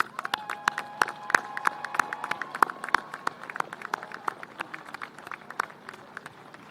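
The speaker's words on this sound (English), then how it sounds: "Join me in giving these folks a round of applause" Audience applause for parents, grandparents and teaching staff at a Dr. Paul Kelly Volunteer Academy graduation ceremony, a steady stretch of many hands clapping at moderate distance with sharp individual claps standing out.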